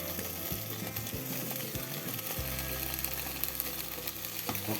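Improvised burger fillings such as tofu and smoked salami fry in a pan with a soft, continuous sizzle and occasional light stirring scrapes, close but fairly quiet, with a faint low hum in the background.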